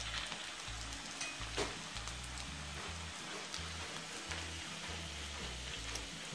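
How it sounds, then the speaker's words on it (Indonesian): Small pork meatballs frying in hot oil for sweet-and-sour pork balls, a steady dense sizzle and crackle running throughout at close range with no talking. "Goreng-goreng gini."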